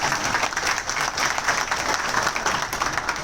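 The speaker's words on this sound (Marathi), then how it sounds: "आज सर्व धारकाच्या वतीने या ठिकाणी अण्णांसाठी जोरदार टाळ्या वाजल्या पाहिजे" Audience applauding for Anna at a public gathering: dense, steady clapping from a crowd that carries evenly through the whole stretch, fairly loud and close, with no voices rising above it.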